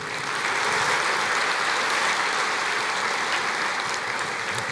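A church congregation applauds in a sustained, dense wash of clapping that holds steady for several seconds, with no other sound standing out.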